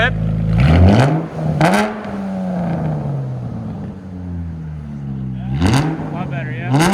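A Dodge Charger 3.6L V6 with a true dual straight-pipe exhaust and H-pipe revs hard three times, each rise sliding back down to a rumbling idle, loud and close, with people talking between the revs.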